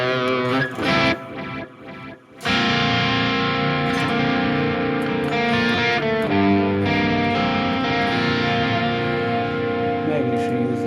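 A clean electric guitar with split humbuckers through a Sonicake Matribox 2, with a bright, glassy single-coil tone, plays chords after a few sparse opening notes, with a touch of echo.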